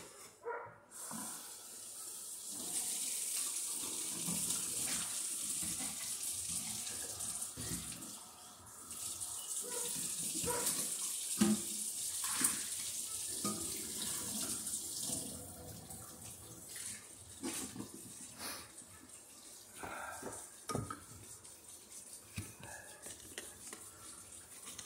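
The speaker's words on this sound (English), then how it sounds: "We're going to rinse this with hot water." A kitchen tap runs hot water to rinse home winemaking equipment, a steady broadband rush that holds throughout with splashes and clatter of items being handled under the stream, fairly close.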